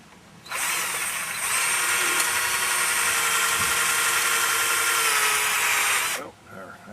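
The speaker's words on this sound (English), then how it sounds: "so drill a hole." A power drill drills a hole while replacing a post lamp fixture, whirring loudly and steadily for about six seconds, starting abruptly and cutting off at the end.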